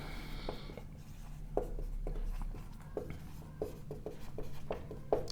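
Marker or pen strokes on a board during a complex-numbers lesson, a series of short scratchy taps and scrapes spaced irregularly over steady room hum, with no talk.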